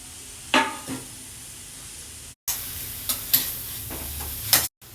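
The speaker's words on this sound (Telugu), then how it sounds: "ఒక పెద్ద కాలీఫ్లవర్ ఇది. దీన్ని 2 స్పూన్ల నూనెలో వేయించుకుందాము." Grated cauliflower fries in a couple of spoons of oil, giving a soft, low sizzle close by, broken by a few light stirring clinks and scrapes of the pan.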